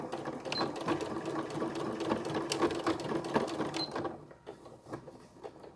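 A sewing machine stitching in reverse to finish a seam, a steady close rapid mechanical whir of needle strokes that stops near the end, leaving a few faint clicks.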